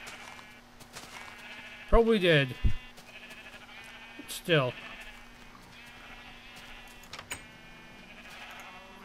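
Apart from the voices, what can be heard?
sheep bleating while being sheared in Minecraft video game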